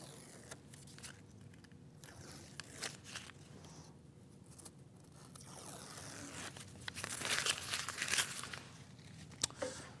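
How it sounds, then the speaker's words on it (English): Adhesive tape is peeled back from a plywood planer sled, producing a close, crackling, tearing rasp that grows louder and busier toward the end, with brief quieter pauses between pulls. "we're just going to go and peel back the tape."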